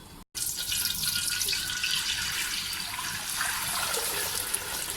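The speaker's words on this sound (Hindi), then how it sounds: "ऑयल हमारा थोड़ा सा गर्म हो जाएगा तो फिर हम इसके अंदर नमक और पानी शामिल करेंगे।" Water pouring steadily into a cooking pot while preparing boiled rice, a continuous close splashing stream that begins abruptly after a brief pause and runs evenly to the end.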